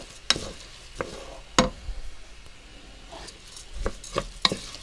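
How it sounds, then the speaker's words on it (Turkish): Rice being toasted in a pan for chickpea pilaf in a village home kitchen gives a low sizzle with several sharp stirring scrapes and clinks spaced irregularly, close by, with no talk. "Şimdi pirinçlerimizi kavuracağım."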